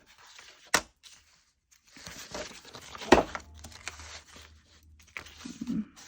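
Scissors cut decoupage napkin paper for making tags in a few short snips, with soft crinkling and rustling of the thin paper at close range, quiet and alone.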